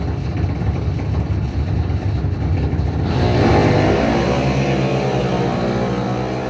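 Drag race cars at a bracket racing quarterfinal roar down the strip, a loud sustained engine drone that swells and shifts pitch midway as the cars accelerate away.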